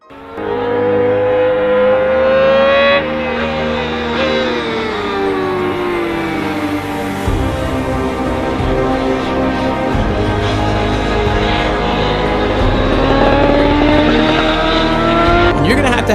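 BMW HP4 superbike engine running loud and close, with a sustained rising and falling engine pitch like revving throughout, ending on a higher rev.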